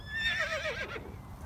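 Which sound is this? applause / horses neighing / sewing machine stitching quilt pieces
horses neighing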